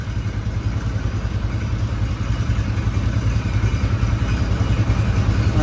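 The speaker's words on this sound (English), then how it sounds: "Slow it down to an idle." Big snowblower engine on an Alaska homestead, slowed to idle, with a loud, close, steady low throbbing rumble and mechanical clatter throughout and no talk.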